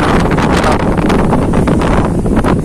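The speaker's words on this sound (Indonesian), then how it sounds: "Angin kencang sekali teman" Strong wind buffets the microphone on a seaside cliff during a fishing outing, a loud, continuous roaring rush that fills the whole clip with no talking.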